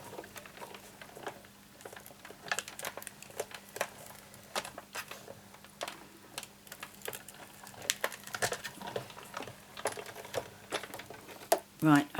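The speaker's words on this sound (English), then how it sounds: "then I crank it through twice more" Hand-cranked die-cutting machine pulling cardstock and a die through its rollers for a card project; a quiet, steady run of rapid ticking clicks and rattles continuing throughout, with a louder knock at the very end.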